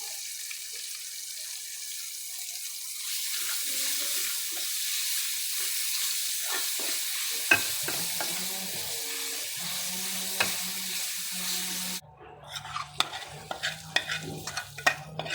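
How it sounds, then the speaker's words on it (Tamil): Steady hissing sizzle of tempering spices and garlic frying in hot oil with occasional stirring clinks, then quieter scraping and clattering near the end; no voices. "அதையும் போட்டு நல்லா தாளிக்கும்."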